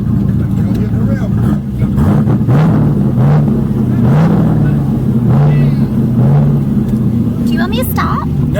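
A Mazda Miata revs hard while doing a burnout and doughnuts, the engine droning loudly and rising and falling in repeated waves, with people talking over it.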